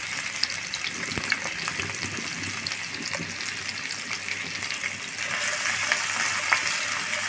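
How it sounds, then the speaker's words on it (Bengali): Chopped onion and garlic frying in a pan for achari chicken, a steady dense sizzle with faint stirring scrapes, close and constant, growing slightly louder and brighter toward the end, with no talking. "দিয়ে পেঁয়াজ রসুন সব কিছু একটু ভেজে নেব।"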